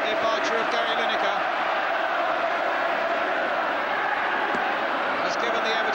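Dense, steady roar of a large Everton football crowd cheering at Wembley during the 1986 Charity Shield against Liverpool, continuous and loud throughout, with a commentator talking over it.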